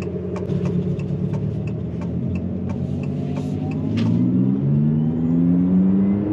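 Abarth 500e electric car accelerating, a rising synthetic whine with tones that climb in pitch over a steady road rumble, heard from inside the cabin with no talk.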